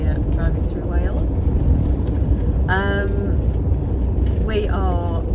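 A diesel car cruising along a road in Wales, heard from inside as a steady low rumble of engine and road noise, with people talking over it.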